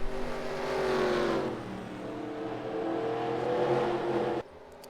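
Race car engines at North Wilkesboro speedway, a loud sustained roar with shifting pitch as cars run down the backstretch, ending in a sudden drop to quieter track noise near the end.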